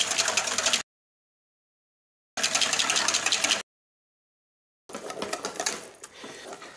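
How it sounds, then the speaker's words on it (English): Thick cream is whisked toward stiff peaks with an electric mixer. The motor whirs in three separate bursts divided by silences, the last one rougher and starting to fade. "I'm going to whisk that up until I get stiff peaks"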